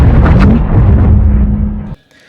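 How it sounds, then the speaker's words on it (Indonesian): A ship explodes in a film scene, a loud, deep booming blast with rumbling debris that rolls on for nearly two seconds before cutting off sharply. "kapal tersebut meledak dan hancur berkeping-keping"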